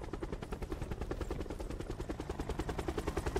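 A helicopter in a video game thrums with a steady, rapid rotor pulse throughout. The sound is continuous and fairly quiet, with no talk over it.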